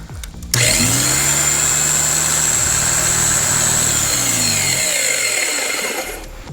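A repaired Kobalt air compressor motor starts after a short pause, then runs as a steady, loud mechanical hum with a whining tone on top, and winds down near the end. No talking.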